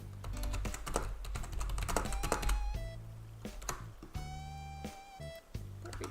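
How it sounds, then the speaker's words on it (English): Fast, close clicking of computer keyboard keys in bursts with brief pauses, crisp and fairly loud during a livestream, with no talking. "I'm gonna make that into a poll, but I'm also a slow typer"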